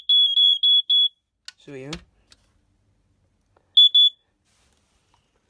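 Family Gard 83R smoke alarm under test, sounding a high-pitched electronic beep in a quick run of about four pulses, then a second short burst after a pause, with a brief spoken phrase and a click between.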